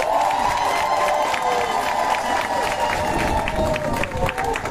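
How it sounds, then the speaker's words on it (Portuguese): Crowd noise at a victory speech in Quelimane, Zambézia, Mozambique, applauding and cheering for the police, a steady dense roar of many voices with claps throughout, loud and continuous. "Uma salva de palmas para a PRM."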